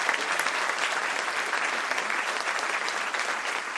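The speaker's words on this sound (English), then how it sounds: "Et donc vous allez tous les applaudir énormément." Dense, even applause fills a theatre during a Cannes Classics screening of a Satyajit Ray film, a steady wash of many hands clapping at moderate distance with no break across the few seconds.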